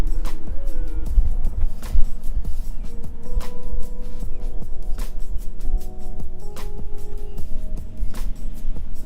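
A car rolls north along Douglas Drive through the Gates of St. John residential subdivision in St. John, Indiana, past two-story houses and ranches, its steady low engine and road rumble continuous with faint background tones and no talk.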